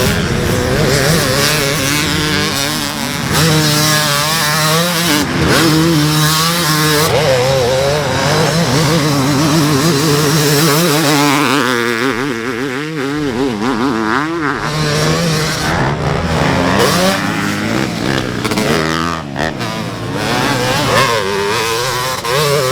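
Big-bore Kawasaki KX315cc two-stroke dirt bike ridden on a track, its engine revving and wailing loudly and continuously with rising and falling pitch as the rider works through the throttle, no talk.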